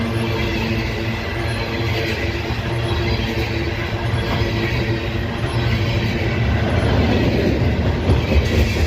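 A freight train rolls by close in Abbeville, cars with flat spots on their wheels clacking over the rails as slack runs through the couplers, a dense steady rumble with rhythmic clicks and no voices.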